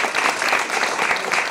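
Audience applause at a talk on the future of the NHS, a steady, dense wash of clapping that holds at an even level for a short stretch, with no voices over it.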